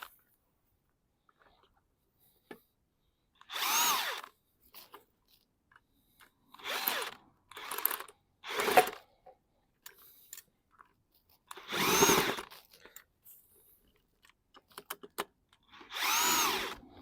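Power tool tightening the rear shock absorber nut on a Mazda 3, six close loud whirring bursts of a second or so each, separated by quiet gaps with small clicks, no talk.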